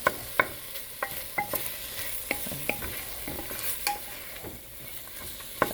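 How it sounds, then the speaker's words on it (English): Sausage and red onion browning in a pan for potato soup, with a steady close sizzle punctuated by repeated sharp clicks and scrapes of stirring throughout, no voices. "I'm browning the sausage and sweating the onion."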